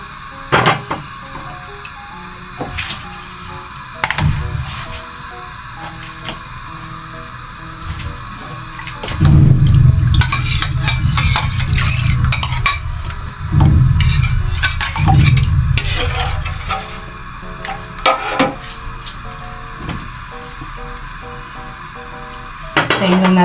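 Palabok sauce bubbles and sizzles steadily in a pan, with louder bursts of frying and occasional clinks of a utensil against the pot.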